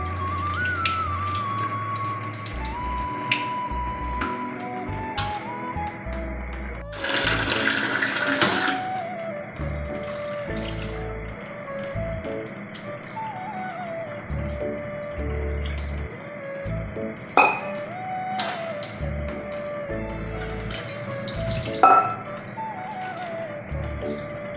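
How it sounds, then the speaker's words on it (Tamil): Flattened rice (poha) being rinsed in a bowl with water, with irregular splashing, swishing and pouring at close range and a louder burst of water partway through; no talking. "பாருங்கள், நல்லா தண்ணியெலாம் ஊற்றி நல்லா ஒரு 2 தடவை கழுவிக்கலாங்க."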